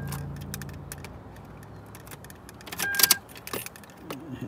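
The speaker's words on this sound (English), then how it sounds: "Insert the key into the cylinder. Turn the ignition on." A key jangles and clicks into the ignition cylinder of a Toyota Tundra, a few short metallic rattles and taps close by in a quiet cab.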